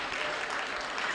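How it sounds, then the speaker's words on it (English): An audience clapping at a health session of the COP27 climate conference, a dense steady patter of many hands heard for a moment without any talk. "So let's hear some clapping and excitement."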